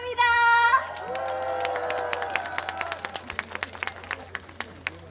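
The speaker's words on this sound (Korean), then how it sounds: "힘차게 여러분 박수 쳐주시고 함성 보내주셔서 너무너무 감사드리고" Crowd applause and cheering at an outdoor summer concert, a shouted cheer and whoops giving way to scattered, dwindling claps from a fairly distant audience.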